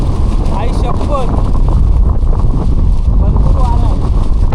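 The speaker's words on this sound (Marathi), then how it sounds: "पण वारा एवढा चालू आहे ना" Strong wind rushes up from the deep valley below Raigad Fort in monsoon fog, a loud, constant buffeting roar battering the microphone, with faint voices murmuring beneath it.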